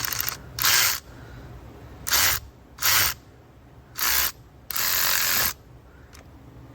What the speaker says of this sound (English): So now we're gonna use our electric ratchet.